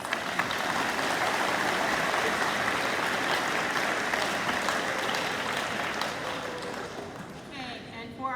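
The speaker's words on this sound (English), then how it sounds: "Let's give these a round of applause." Sustained applause from an audience honoring students at a high school awards ceremony, steady and full for about seven seconds before thinning out, with a few voices near the end.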